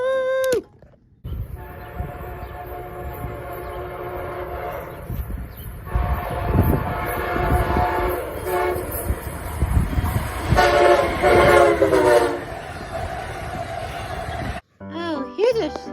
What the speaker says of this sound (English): they have a K5 air horn